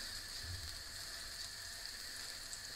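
Butter melting in a hot frying pan gives a faint, even sizzle, a soft continuous crackle close by with no voices.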